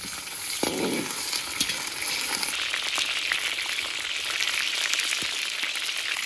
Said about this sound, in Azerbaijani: Kartofu tam qızardıq yağda. Soğan da qızardıcam kartofla.